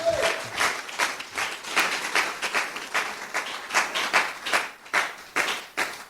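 A church congregation claps for Jesus after a prayer, a scattered, uneven round of hand claps with bursts of varying density, fairly close and moderately loud throughout.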